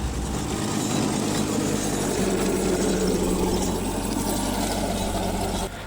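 A tractor engine ploughing a farm field, a loud, steady rumbling drone that runs unbroken and close before easing slightly at the very end.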